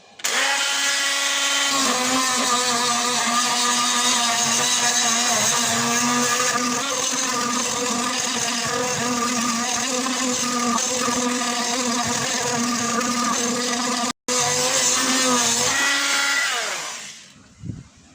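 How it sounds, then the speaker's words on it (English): Dremel rotary tool sanding a homemade laser engraver enclosure, a steady high-pitched whine running loud and continuous for about seventeen seconds with one brief cutoff, then winding down at the end; no talking. "I'm just going to use my Dremel to sand this down"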